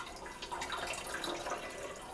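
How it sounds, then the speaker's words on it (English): Water from a humidifier trickles and spills down its side back into a bucket, a steady close splashing and dripping that runs for the whole short moment with no talk. "the water will just kind of flow down back into the bucket here"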